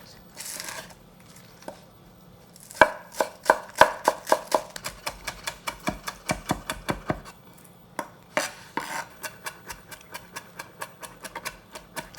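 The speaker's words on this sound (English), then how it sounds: "So I like to really chop it up finely" A knife finely chopping two small green onions on a cutting board, a fast run of crisp, close taps in steady rhythm with short pauses between bursts.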